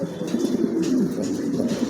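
A pair of top-quality pigeons offered for sale coo close by, a continuous soft, throaty burble that rises and falls without a break.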